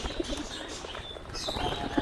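A pair of Giribaz pigeons in a home loft during rain, giving soft low coos and faint chirps over a steady background hiss, close by, with no one talking.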